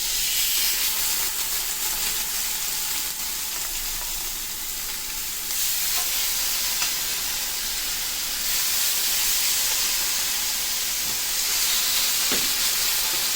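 Pork chops, cleaned and scored, sizzle in a frying pan over a medium flame. A loud, steady hiss of frying runs throughout, with occasional small pops and no talking.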